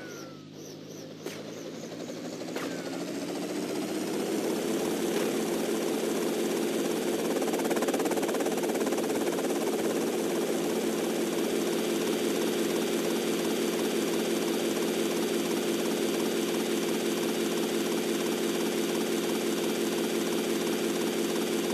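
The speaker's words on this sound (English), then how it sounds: "Helicopter." A helicopter in the GTA Vice City video game, a steady droning rotor and engine hum that rises in the first few seconds and then holds loud and continuous, with no talk over it.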